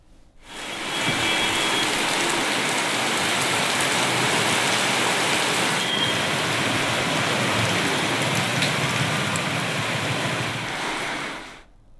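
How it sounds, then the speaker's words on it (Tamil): Heavy rain pours down steadily in Tamil Nadu, a dense, even hiss that fills the whole span at constant loudness, with no voices or breaks. "நாள் முழுவதும் கனமழை பெய்ததால்"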